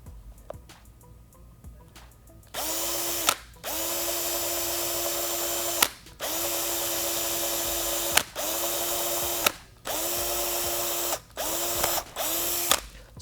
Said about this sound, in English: So what I'm doing first here is I'm using a 1/8 inch drill bit.